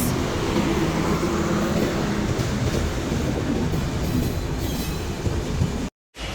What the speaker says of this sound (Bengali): বর্তমানে আপনারা এখন দেখতে পাচ্ছেন ঢাকা থেকে ছেড়ে যাওয়া বিশাল বিলম্বে ভায়া কাশিয়ানি হয়ে খুলনা অভিমুখী আন্তনগর জাহানাবাদ এক্সপ্রেস